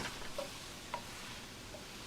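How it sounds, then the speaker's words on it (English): Peppers and onions sauteing in a pan give a soft, steady sizzling hiss with a few faint ticks of stirring, heard quietly with no talking. "these peppers are sauteing nicely with the onions"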